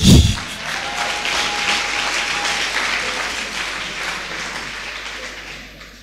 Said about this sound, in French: Est-ce que tu peux t'applaudir?